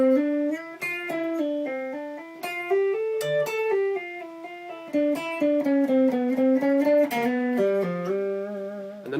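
Electric guitar played through effects in a lick, a flowing run of quick picked and legato arpeggio notes with sustained tone, close and clear with no voices.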